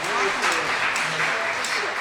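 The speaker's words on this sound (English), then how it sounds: "can I ask you for another round of applause for the fantastic job everybody did here tonight?" Audience applause after a theater performance, a brief steady wash of clapping with some voices mixed in.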